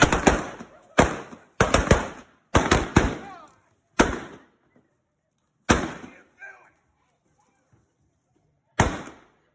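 Gunshots fired in a staged western ghost town show: a series of sharp, loud blank cracks echoing outdoors, first in quick clusters, then spaced farther apart, with a lone final shot.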